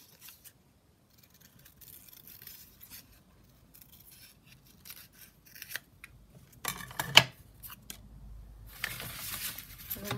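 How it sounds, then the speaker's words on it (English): Scissors snipping around small paper postmarks for a junk journal craft, quiet intermittent cuts and paper rustling close by, growing busier toward the end. "We've got these little postmarks, so I just kind of cut around those."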